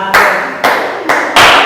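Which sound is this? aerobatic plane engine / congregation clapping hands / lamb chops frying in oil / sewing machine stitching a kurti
congregation clapping hands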